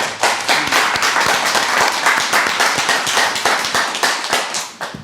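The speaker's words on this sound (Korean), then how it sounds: "우리 박수 한번 합시다." A church congregation claps together, a dense burst of many hands that rises quickly, holds steady for several seconds, then thins out toward the end. No voices.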